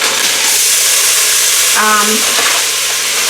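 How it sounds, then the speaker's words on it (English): Frozen onions hit a hot pan in a cooking pot for broccoli cheddar soup, giving a loud, steady sizzle and hiss with a brief scraping stir partway through. "I'm going to put in some frozen onions."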